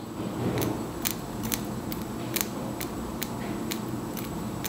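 Scissors snip through short lengths of wig hair, about ten sharp, close cuts at an uneven pace over a low background hum, with no talking.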